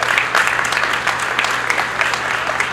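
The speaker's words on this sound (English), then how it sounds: "Please give them a round of applause as well." Audience at a county office grand opening clapping for the local fire department, a short burst of close, lively applause from a room of people under a steady low hum.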